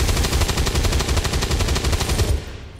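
Rapid automatic gunfire rattles in a loud, steady burst in the XCOM 2 video game, then stops abruptly near the end, leaving a faint tail.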